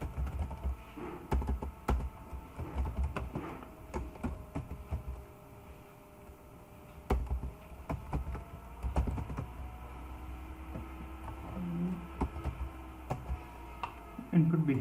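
Typing on a computer keyboard while coding HTML, with scattered, irregular soft key clicks in short bursts under quiet room tone.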